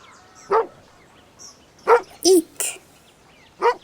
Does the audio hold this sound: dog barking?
yes